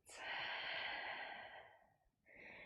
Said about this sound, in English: and take a deep breath out